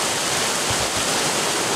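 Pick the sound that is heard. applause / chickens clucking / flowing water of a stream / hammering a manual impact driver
flowing water of a stream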